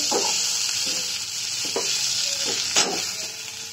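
Potatoes frying in a pan while an okra and rui fish curry is being cooked, a steady close hiss of sizzling oil broken by a few brief stirring scrapes, with no talk.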